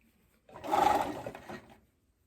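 A sewing machine runs in one short burst, about a second long, as it stitches binding onto a romper, rising quickly to a whirring hum and then falling away into quiet.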